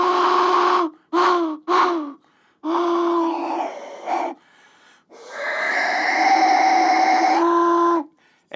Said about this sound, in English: And then there's this cougar whistle